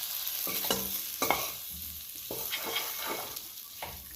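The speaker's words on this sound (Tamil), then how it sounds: "மசாலா கொஞ்சம் எண்ணெயிலே வேகட்டும்." Steady sizzling of masala frying in oil for a Chettinad fish curry, with a spoon scraping and stirring the pan in repeated strokes.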